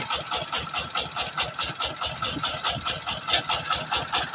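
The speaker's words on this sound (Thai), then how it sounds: "รถไถดัดแปลงครับ" A modified walking tractor engine idles steadily with a fast, even chugging pulse and a metallic rattle, close and continuous throughout.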